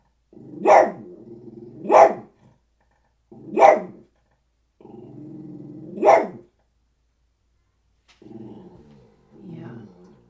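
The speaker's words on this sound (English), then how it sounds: "I feel like my dog is about to start barking." A dog barks four times, with loud, close, evenly spaced barks, and between and after them gives low rumbling growls, with no other sounds.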